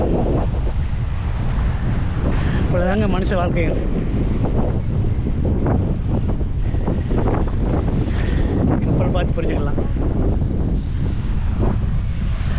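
Sea waves surge and crash beside an abandoned, orphaned ship at Thennetty Park, Visakhapatnam, under heavy gusting wind buffeting the microphone, loud and continuous, while someone speaks over the roar.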